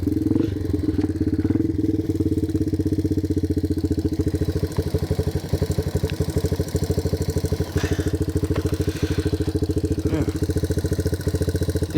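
A 1987 Yamaha TW200 trail motorcycle, kickstarted and running without a battery and with a carburetor issue, idles close by with a rapid, steady thumping putter and some mechanical clatter, loud and alone throughout.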